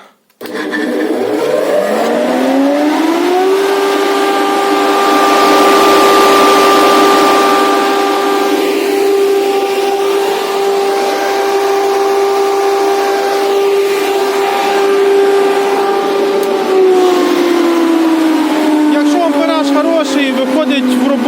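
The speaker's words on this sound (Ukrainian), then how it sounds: "Якщо побачили по відео, 4 секунди і вже сінорізка є в роботі." A 220 V, 4 kW electric vacuum hay cutter starts up with a rising whine and then settles into a loud, steady motor hum with a strong tonal drone. The hum carries on and begins to wind down near the end.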